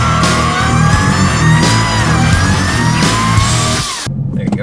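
Dodge Challenger Hellcat launching at full throttle, the loud engine roaring close by as its pitch climbs steadily through the gears, then cutting off abruptly near the end.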